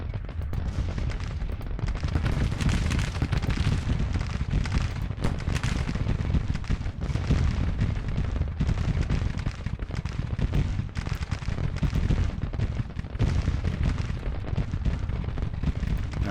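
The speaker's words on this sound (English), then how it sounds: "I want to do some counter battery fire here with my rifled guns" Continuous battlefield fire in a Civil War strategy game, rifled 3-inch ordnance guns firing counter-battery, heard as a steady loud barrage of overlapping booms and crackling shots with no pauses.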